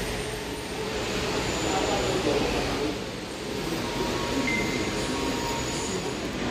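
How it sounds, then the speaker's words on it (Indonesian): A KRD diesel railcar shunts toward the Surabaya Pasar Turi depot, giving a steady low rumble and hum of rail movement that holds at a moderate distance with a slight dip midway, while a voice speaks over it. "Ini ada langsiran teman-teman, langsiran KRD ke depo Surabaya Pasar Turi."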